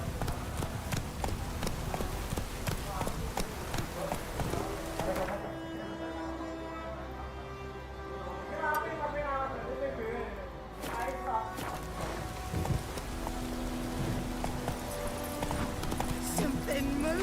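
Roach, the horse in the video game The Witcher 3, gallops with a rapid, steady clatter of hoofbeats that runs through the whole stretch beneath a fuller layer of game sound.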